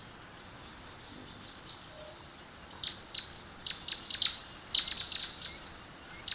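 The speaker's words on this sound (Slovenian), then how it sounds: "Zdaj smo tiho in lahko slišimo ptice." Birds chirping at a feeder, a run of short, bright, high-pitched calls repeating at an irregular rhythm, fairly close and clear over a quiet background with no talking.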